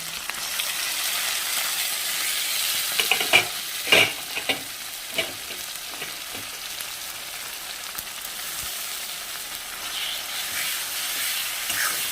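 Onion and tomato fry in a pan with a steady close sizzle, while a spoon stirs and scrapes in a few short bursts partway through.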